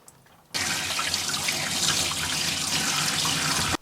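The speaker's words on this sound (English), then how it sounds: "This is the water we poured in, and this is the water that came out." Water pours steadily from a Berkey stainless steel water filter inside a full-time Airstream trailer, starting abruptly after a short quiet moment and running as a constant close hiss.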